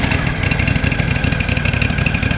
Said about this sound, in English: the machine is idling, so the brush drive is not engaged